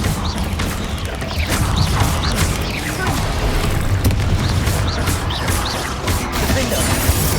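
Bombarda and Confringo spell explosions in the Hogwarts Legacy video game fill a dense, continuous rumble of booms and crashes, loud and near, with a faint voice occasionally under the blasts.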